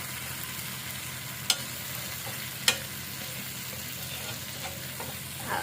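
Fish fries in a pan with a continuous close sizzle, broken by two sharp clacks as the fish is flipped.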